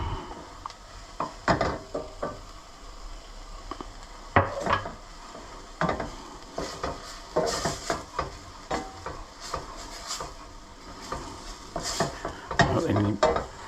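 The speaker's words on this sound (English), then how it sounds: "Then you mix it all in together, mix the onions, spices, the ginger and the garlic." Onions, spices, ginger and garlic being stirred in a frying pan for a home curry, with repeated scraping strokes of a utensil over a soft sizzle, fairly close and uneven in rhythm.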